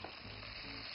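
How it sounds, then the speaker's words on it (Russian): Chicken meat and giblets fry with vegetables in a pan in a steady, dense sizzle, close and continuous with no voices. "И все обжариваем вместе."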